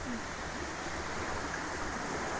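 Rushing stream at Aare Falls on a trekking trail, a steady broadband wash of flowing water filling the whole stretch, close and constant with no break in its level.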